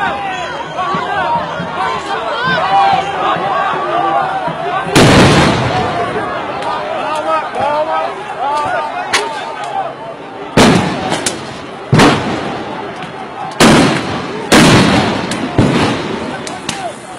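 Riot police fire rubber-bullet guns at protesters in a São Paulo street, sharp loud reports coming singly and in quick clusters over a dense crowd chatter and shouting.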